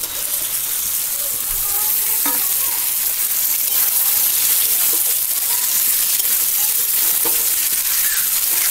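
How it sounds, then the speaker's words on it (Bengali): Potatoes, pointed gourd and prawns fry in a spice paste, making a loud, continuous close sizzle with occasional stirring scrapes and no talk. "দু তিন মিনিট মতো আমি এটা কষিয়ে নেব।"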